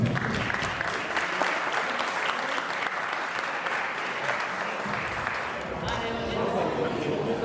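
An audience at a community celebration in Toronto claps in a sustained round of applause, dense and fairly close, with a voice faintly beginning to speak near the end.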